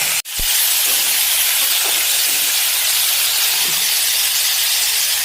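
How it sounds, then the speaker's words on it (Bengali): Red lentils (masoor dal) tipped into a hot pan already holding cauliflower and green chillies, giving a loud, steady steam-like hiss that runs unbroken after a brief sharp onset, with no talking. "এবার আমি দিয়ে দিচ্ছি মুসুরের ডাল"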